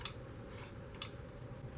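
Scissors snipping through fabric for a chair cushion, two or three soft, brief cuts over a steady low background hum, close and faint.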